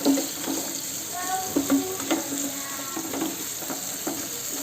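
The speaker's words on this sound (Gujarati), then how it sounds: "ડુંગળી નાખીશું, જેને સાતળવાની છે." Onions sauté in a pan on the stove, a soft, steady sizzle broken by several sharp stirring scrapes and knocks, fairly quiet and close, with no talking.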